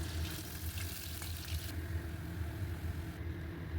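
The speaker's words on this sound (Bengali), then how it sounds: "তারপর সেই তেলেই ডুমো করে কেটে রাখা আলুগুলো ভালোভাবে ভেজে তুলে নেব" Diced potatoes fry in hot oil, following onions browned in the same pan, giving a steady, dense sizzle with a low rumble beneath it. The sizzle stays close and continuous throughout, and no one speaks.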